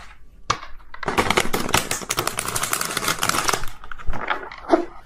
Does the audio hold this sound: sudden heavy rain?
no